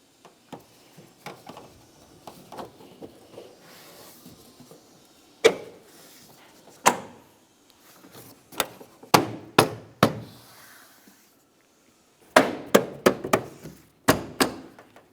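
Plastic cowl push tabs are pressed into the body of a 2002-2005 Ford Explorer, producing scattered sharp thunks and knocks, some in quick bursts, close by with quiet pauses between.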